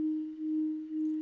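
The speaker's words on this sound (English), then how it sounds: "Using the smartphone, we can control synthesis parameters like sine waves," A steady pure sine tone from a smartphone-controlled synthesizer holds one pitch throughout, with two slight dips in level, faint and alone.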